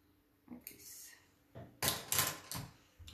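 Flower tape being cut for wafer paper orchids gives a few quiet, crisp snips and rustles, with a cluster of close, sharp cuts in the second half.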